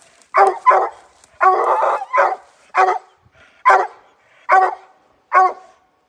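A dog barks loudly and repeatedly at an animal up a tree, at night, in single barks and short doubled bursts, spaced out with brief silences between them.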